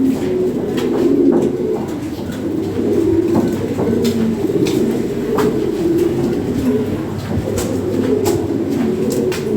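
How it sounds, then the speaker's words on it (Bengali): Big fancy pigeons, a female pair and a male kept for sale, coo steadily over a constant rumbling background, with soft overlapping calls and no talking. "এগুলো হলো ফিমেল আর ওটা হলো মেল। হ্যাঁ, বিগ সাইজের কবুতর।"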